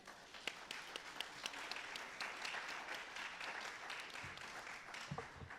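An audience at a Juneteenth panel discussion on race and identity claps for the panel speakers. The applause is soft and distant, a steady patter with a few sharper individual claps.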